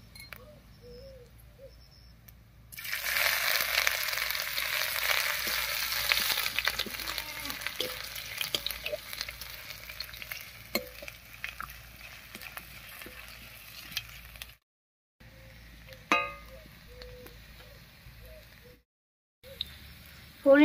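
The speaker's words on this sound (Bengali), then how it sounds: "ফোড়নের সঙ্গে আদাটাও ভাজা হয়ে গেছে," Crushed ginger hitting hot oil with whole spices bursts into a loud, steady sizzle that gradually fades, broken by occasional stirring clinks and scrapes of a spatula in the pan.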